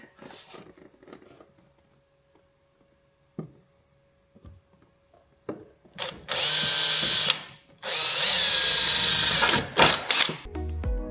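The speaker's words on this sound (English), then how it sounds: "Right, let me go and get the drill." A power drill bores holes for rivnuts in the rear quarter body of a Golf MK4 R32, with two loud sustained bursts after several seconds of quiet shop clatter.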